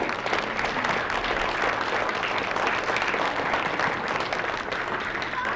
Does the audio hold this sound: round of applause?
yes